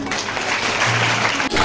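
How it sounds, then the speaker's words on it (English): Applause welcoming Adivasi guests at a school special assembly for Indigenous People's Day, a dense, steady wash of many hands clapping close by through the whole short stretch. "Let us welcome them all with a huge round of applause."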